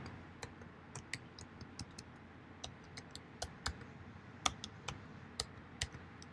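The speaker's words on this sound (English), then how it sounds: "We'll type in my password." A password is tapped out on a computer keyboard in a quiet room, a run of separate crisp clicks at an uneven pace, close and fairly soft, with no talking.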